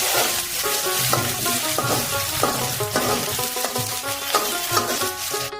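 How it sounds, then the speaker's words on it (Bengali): Chopped onions frying in oil in a pan, a loud, steady crackling sizzle with occasional stirring scrapes, close and continuous with no talk. "ফার্স্টেই আমি একটা প্যানে তেল দিয়ে পেঁয়াজ কুচি ভেজে নিচ্ছি।"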